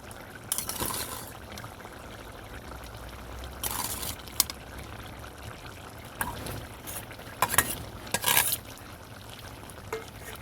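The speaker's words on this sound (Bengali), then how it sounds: "ভেজে রাখা চিংড়ি মাছগুলো আমি দিয়ে দেবো।" Fried prawns go into a simmering curry of potatoes and jackfruit seeds, giving a few quiet, brief splashes and stirring scrapes over a low, steady background bubble.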